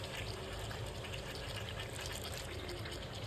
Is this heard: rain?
no